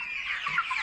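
Chickens feeding give a quick run of soft, close clucks and murmuring chatter in one short burst, with no voices.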